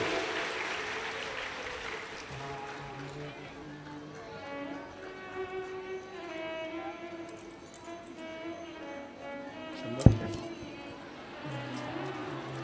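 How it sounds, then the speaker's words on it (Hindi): Loud, sustained clapping from a large audience at an outdoor Shiv Purana katha in Halekosa, Rajnandgaon, steady for the full stretch, with musical tones and a voice running faintly underneath and a sharp knock near the end. "एक बार जोरदार ताली बजा"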